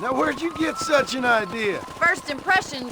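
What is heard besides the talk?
None of the usual background noises is heard.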